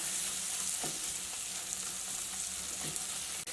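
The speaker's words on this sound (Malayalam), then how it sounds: "തുറന്ന് വെച്ചിട്ട് തന്നെ ജസ്റ്റ് ഇതേപോലെ ഒന്ന് ഇളക്കി കൊടുക്കുക. അപ്പോൾ തക്കാളി നന്നായിട്ടൊന്ന് ചൂടായിട്ട് വരണം." Tomatoes fry in an open pan with grated potato, making a constant dense sizzle with soft scraping strokes of a stirring spoon every second or so.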